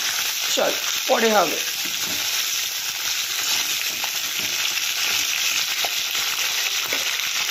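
Flat white beans fry in a pan with a steady, soft sizzle, and a spatula stirs them now and then, while someone speaks briefly and a few bird chirps sound early on.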